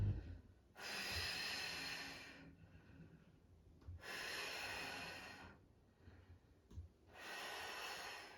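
A woman breathes out deeply during a core strength exercise, three long, loud, breathy exhales close to the mic, separated by quieter pauses.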